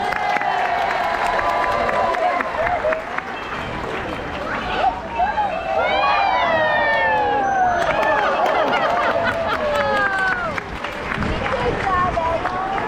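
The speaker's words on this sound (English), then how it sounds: "Let's give one more round of applause." Audience at an animal show at the St. Louis Zoo clapping and cheering, with children's shouts and voices mixed through the sustained applause.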